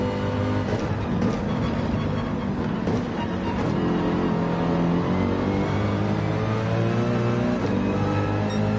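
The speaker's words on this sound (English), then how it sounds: "racer's engine noise on high" Racing car engines in Gran Turismo 7 during an online lobby race at Daytona, a steady loud drone with rising and falling engine tones throughout, other cars whooshing past now and then.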